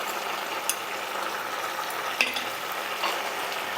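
Black and white mustard seed paste being stirred in a hot pan, with a steady soft sizzle and occasional scraping clicks from the spoon, heard close and alone.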